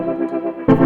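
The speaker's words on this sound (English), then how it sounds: "right off the bat, you've got a really usable, practical reverb, delay, stereoizing type sound" A sustained tone passes through a reverb, delay and stereo-widening effect preset, sounding washy and doubled, with a brighter swell near the end of the brief clip.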